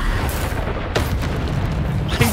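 Bombarda spell blasting a troll in Hogwarts Legacy, heavy booming bursts with a sharp crack near the middle and another late hit over a dense rumbling din of combat.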